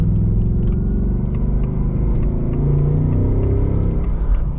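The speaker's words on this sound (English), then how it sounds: "I think it blipped the throttle for me." 2024 Ford Mustang GT with the 5.0 V8 engine, a deep, steady, loud engine rumble throughout with a subtle rise in revs, heard from inside the car.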